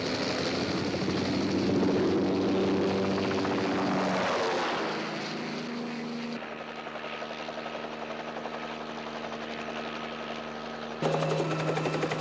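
A helicopter flies toward an oil field fire, its engine and rotor making a continuous droning whir that shifts in tone and level as it passes, with no one speaking.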